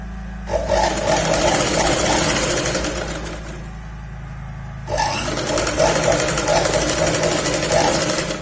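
A sewing machine stitches a seam on a Punjabi suit top in close, rapid bursts, running for a few seconds, pausing briefly, then starting up again for another run.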